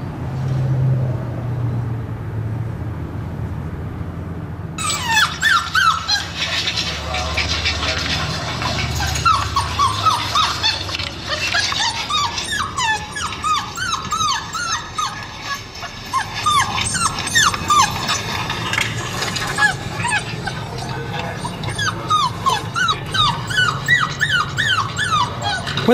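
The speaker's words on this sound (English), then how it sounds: "I'm gonna play puppies crying" Puppies cry and whimper in a played-back recording: high, wavering yelps and whines repeating steadily and fairly loud over a low rumble of car or road noise, with no talking.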